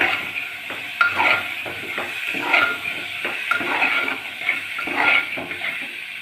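Raw peas fry in a pan for ghugni while a spoon stirs them, giving a steady sizzle broken by repeated scraping and clinking strokes in an uneven rhythm, close and moderately loud.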